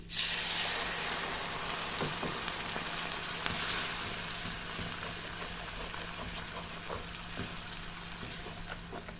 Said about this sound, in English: I'm going to deglaze my pan with some red wine.